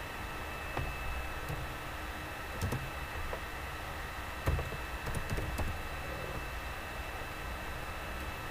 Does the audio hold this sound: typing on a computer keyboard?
yes